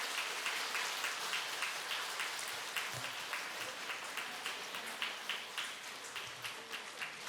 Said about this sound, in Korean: 자, 나오실 때 여러분 큰 박수로 환영해 주시기 바랍니다.